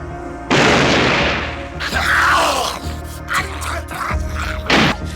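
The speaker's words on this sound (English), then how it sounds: "they blow themselves up with a firecracker" A sudden loud firecracker explosion in a film, followed by scattered crashes, thuds and rattling debris.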